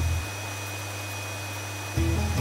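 Vacuum cleaner running steadily at home, a continuous broadband drone with a steady hum that briefly shifts near the end.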